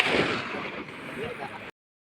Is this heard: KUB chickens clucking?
no